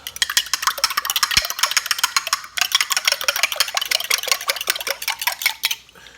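Macaroni with a poured milk and egg mixture being stirred for Southern mac and cheese, giving steady scraping and clinking of a utensil against a pot, close up and continuous, with a short pause midway and no talking.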